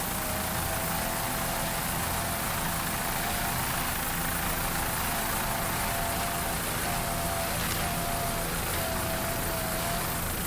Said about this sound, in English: Nice throttling there by Tony Buffamani.